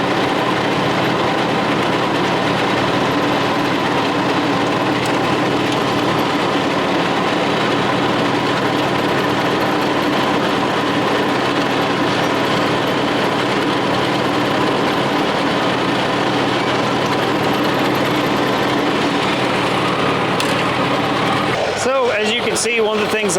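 A tractor engine idles steadily and loudly, running on until it burns off its fuel and empties the carburetor, a constant rumbling drone with a brief rattling disturbance near the very end.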